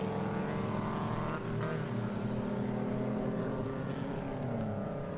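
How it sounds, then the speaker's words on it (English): A vintage Frazer Nash race car drives through the field at a historic motor racing festival. Its engine drones steadily and somewhat distantly, with a faint shift in pitch as it passes. "let's just admire the little Fraser Nash coming through the field"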